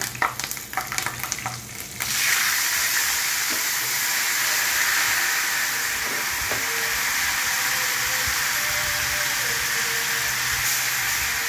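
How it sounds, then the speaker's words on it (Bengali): Green chillies hit hot oil while tempering for a Bengali fish curry, a loud steady sizzle and hiss that swells after a brief stir and holds continuously, close-up with no talk. "এই নিয়ে কাঁচা লঙ্কাটা দিয়ে ফোড়ন দিয়ে এবার"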